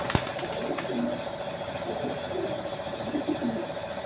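Racing pigeons coo softly in soft repeated phrases, with a sharp click near the start and steady background noise throughout.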